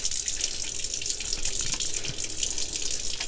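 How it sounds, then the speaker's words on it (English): Tap water runs steadily into a sink while hands are washed beneath it, a continuous close hiss and splash with no talking. "So immediately, I'll wash my hands."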